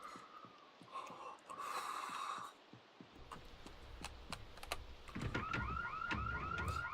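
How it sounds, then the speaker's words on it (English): A car alarm goes off in the video game Project Zomboid, its repeating warbling siren starting in the last few seconds after a spell of clicks, thumps and breathing-like noises. "The alarm's gone off and that car is Fubar."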